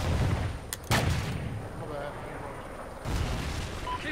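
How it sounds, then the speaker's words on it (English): A rocket explodes in the shooter game Ghosts: a sharp, loud blast about a second in, with rumbling gunfire-like noise around it and a second heavy burst near the end, with voices faintly present. "Oh, they got a rocket."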